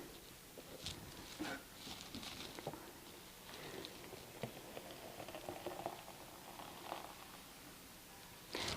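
Homemade almond milk is poured a second time, giving a steady, close liquid splashing and pattering that runs continuously for several seconds.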